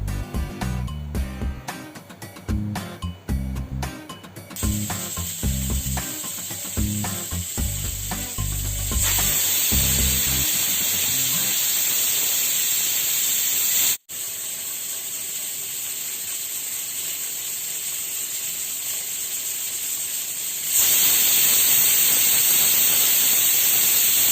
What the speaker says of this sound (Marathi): कुकरचं झाकण लावून घेऊन 7 ते 8 आपण मध्यम आचेवर शिट्या देणार आहोत।